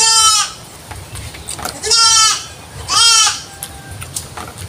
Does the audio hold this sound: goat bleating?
yes